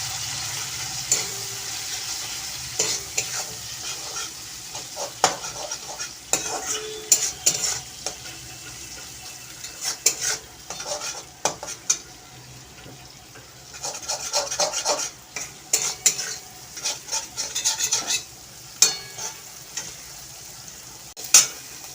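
Fish roe stirred and mixed in a frying pan, with a spatula scraping and rubbing across the pan over a soft sizzle and frequent sharp clicks against the metal, close up and continuous.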